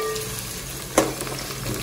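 Onions fry in three big spoons of oil in a pot for masoor pulao, with a steady close sizzle and one short clatter as they stir.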